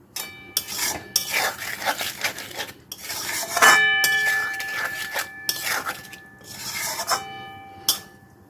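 Spices for a green-banana kofta curry are stirred in a pan over high heat. A spatula makes rough, rasping scrapes in uneven bursts, with brief pauses and a faint metallic ring in between.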